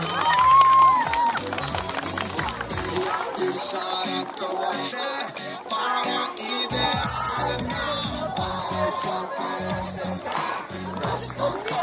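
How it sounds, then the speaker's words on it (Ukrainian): A crowd at a summer camp's outdoor green stage applauds and cheers for a camp counselor, loud, busy clapping mixed with shouts and whoops, while music and voices carry through the whole stretch. "Запрошуємо Діану Леонідівну вийти до нас на зелену естраду під ваші бурхливі оплески"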